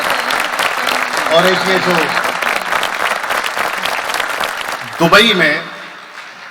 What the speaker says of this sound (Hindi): मैं चाहता हूं एक बार जोरदार तालियां इनके